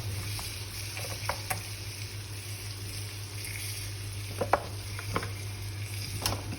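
Cooking oil sizzles in a pan while it is stirred, a steady low frying hiss broken by several sharp scraping clicks of the utensil, close and moderately loud, with no voices.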